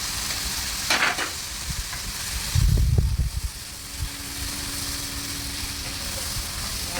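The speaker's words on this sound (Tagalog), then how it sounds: "Siyempre, kailangan nating igisa yan." Leftover cooked chicken and scallops sauté in a hot pan, giving a steady sizzle and frying hiss. Stirring scrapes break in now and then, a heavier clatter lands near the middle, and no one talks.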